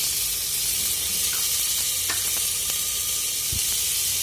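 Ingredients such as tomato and ginger garlic paste frying in a pan, a dense continuous sizzle and hiss with a few small pops, steady and close.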